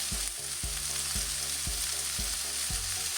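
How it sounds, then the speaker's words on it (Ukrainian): Continuous hiss of chicken frying in hot oil in a pan, with regular low thumps of a soft rhythmic beat underneath. "На сковорідці розігріваю трохи олії і обсмажую курку до рум'яної скоринки."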